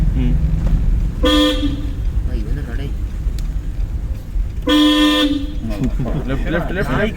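A car horn honks twice in long, loud blasts on a narrow road during a driving lesson, with engine noise underneath and people talking between the honks.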